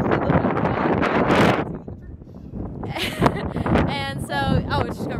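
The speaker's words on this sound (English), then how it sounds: "it just got really windy" Gusty wind buffeting the microphone outdoors at Salisbury Cathedral with a loud rumbling roar, easing briefly before a person starts talking over the remaining wind noise.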